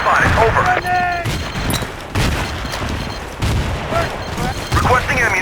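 Grenade blast and bursts of rifle and machine-gun fire in the video game Battlefield 2, loud and close, with rapid shots overlapping and radio-style voices shouting over the chaos.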